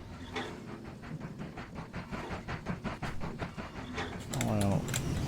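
Trains run on the rails in the Mashinky video game, a soft rhythmic clickety-clack of wheels under faint clicking and a short burst of louder noise near the end.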